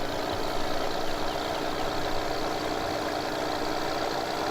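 A Farming Simulator 2015 video game tractor engine idles steadily with a constant, even drone and no other sounds.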